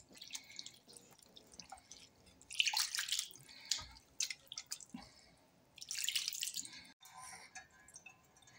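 Freshly made chhena is rinsed again with water, bringing irregular splashing gushes and drips that come in two louder bursts separated by quieter trickling.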